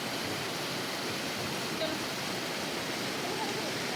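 A waterfall in Kullu roars as a steady, dense rush of falling water that fills the whole clip with no break.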